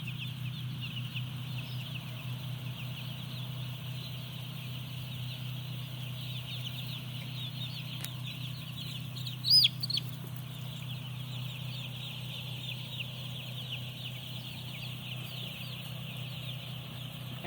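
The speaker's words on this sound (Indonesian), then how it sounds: "Ayam aktif bergerak, makan minum." Broiler chickens cluck and murmur steadily inside a closed-house poultry barn, a dense, continuous flock chorus over a low constant drone of ventilation fans, with a brief louder squawk near the middle.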